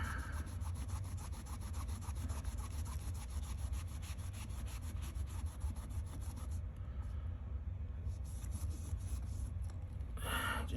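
Protective coating being rubbed onto a Case fixed-blade knife with leather handle, a quiet rhythmic scraping and rubbing in steady strokes that pause briefly near the end.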